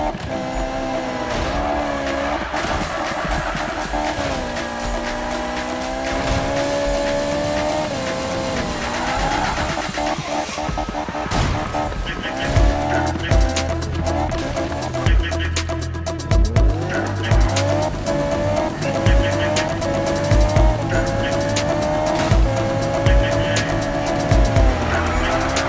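Ferrari drifting in the Need for Speed racing game, with a high revving engine and long continuous tire squeal as the car slides, plus engine pitch shifts and occasional thumps under background music.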